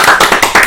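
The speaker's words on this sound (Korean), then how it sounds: "박수 한번 해야 되겠다." Several quick hand claps sound in a brief, close, loud burst with an even rhythm.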